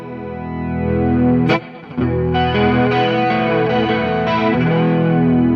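Sustained electric guitar chords played through a reverb pedal ring out loudly, drenched in reverb and effects, with a brief dip before the washy, shimmering tone swells back.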